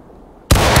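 A musket volley in the War of Rights Civil War game: silence, then a sudden loud, broad blast that rolls on through the rest of the moment.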